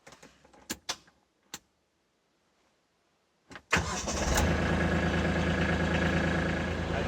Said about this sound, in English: Now let's start the tractor and take a look at the dash.